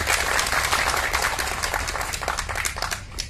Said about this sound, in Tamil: எனக்காக அவருக்கு ஒரு கைத்தட்டல் கொடுக்கணும்.